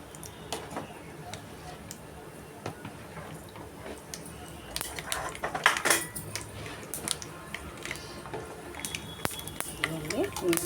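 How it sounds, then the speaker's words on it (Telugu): Onion and green chili dropped into hot oil with mustard seeds and cumin, giving clattering pan and utensil noises with a light sizzle close by and intermittent stirring scrapes. "ఇప్పుడు ఉల్లి వేసుకుందాం. ఉల్లిపాయ, పచ్చిమిర్చి వేసుకుందాం."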